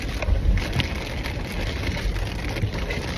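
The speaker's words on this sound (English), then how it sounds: "The rain's come down harder now." Heavy rain pours down steadily in a continuous, even hiss with scattered louder drops pattering on a nearby surface.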